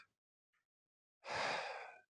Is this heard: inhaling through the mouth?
yes